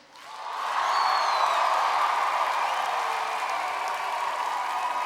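Studio audience applause on a televised singing competition live show, rising quickly into a loud, sustained wash of clapping with a few scattered cheers, then holding steady.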